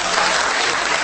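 Audience clapping in a comedy club, a short burst of dense, even applause heard on its own.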